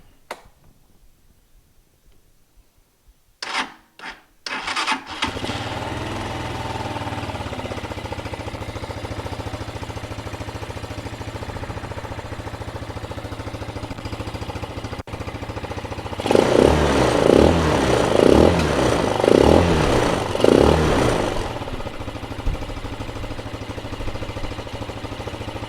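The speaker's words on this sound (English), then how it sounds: "we got the carburetor put back on and it's ready to fire up" A Chinese Tao Tao/Coolster ATV engine with a freshly cleaned carburetor is cranked with a few sharp bursts, catches and settles into a steady close idle, then revs in a series of throttle blips before dropping back to idle.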